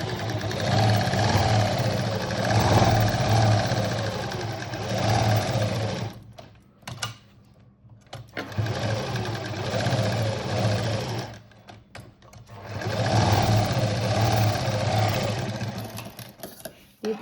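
Sewing machine stitching a patchwork design made from a saree border, running in three long whirring bursts separated by short pauses, loud and close.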